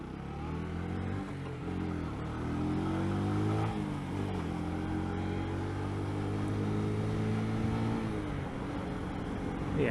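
A Lexmoto ZSB motorcycle engine running at close range, a steady low drone that rises and falls with revs and holds throughout without any talk.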